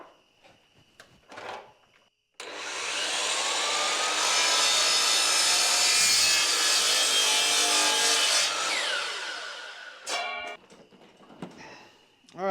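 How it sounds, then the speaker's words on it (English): Miter saw powered by an EcoFlow Delta 2 power station spins up and cuts through a small piece of hickory, a loud sustained whining bite lasting several seconds, then winding down, with clatter and handling noises around it. "we'll cut a little piece of hickory."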